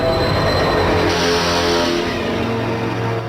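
A cartoon train, the Slugterra Express, rumbles in steadily and loud, with a continuous rolling rail clatter and a dense hum of wheels held throughout, with no voices.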